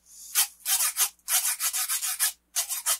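A metal scraper rasps across the small grooves of a wooden percussion instrument in a series of short, scratchy strokes, quick bursts separated by brief pauses, close and clear with no talking.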